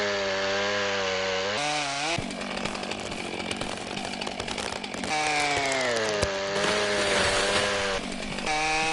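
A real-brand chainsaw felling trees in the video game Forestry 2017 roars loudly and steadily, its engine pitch dipping and rising with each rev as it bites into the wood, with no voices.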